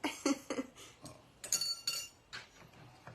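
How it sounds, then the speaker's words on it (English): Metal dice clinking against the inside of a metal bowl in a series of bright, close rattles and taps, bunched into short bursts with brief pauses between them. "And you may hear that kind of clinking."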